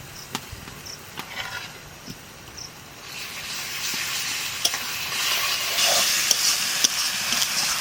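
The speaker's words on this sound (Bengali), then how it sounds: "পেঁয়াজটা ভাজা ভাজা হয়ে গেছে দিয়ে দেবো রসুন" Onion, garlic and ginger frying in a pan, a steady sizzle that rises and grows louder toward the end, with occasional clicks and scrapes of stirring.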